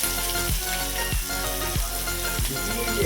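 Onions fry in a pan for kali palav, giving a steady, loud sizzle under strong background music.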